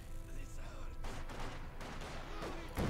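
Tank cannon fire and battle explosions in Company of Heroes 2, a T-70 light tank shooting at Grenadier infantry, with dense overlapping gunfire, a sharp blast near the end and a faint voice under the din.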